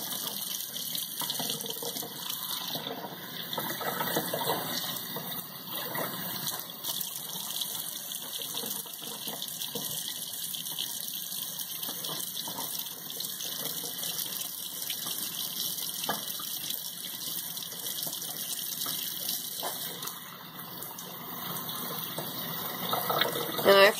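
Tap water runs steadily in a sink while decapsulated brine shrimp are rinsed, a continuous close gushing hiss that holds at an even level for the whole stretch.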